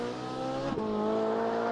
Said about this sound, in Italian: è ormai impossibile parlare a causa del rumore del motore